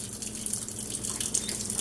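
Water from a Kangen water ionizer runs at its fast flow rate, a steady close splashing stream with light dripping over it.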